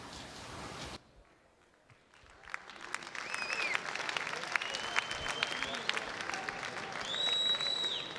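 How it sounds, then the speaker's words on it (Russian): An audience at a boxing or MMA fight applauding as a fighter from Dagestan is introduced, a broad wash of clapping and crowd noise that swells after a short quiet gap, with a few whistles cutting through. "И под ваши аплодисменты"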